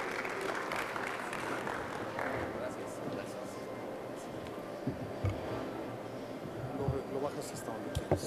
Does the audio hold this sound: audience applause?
yes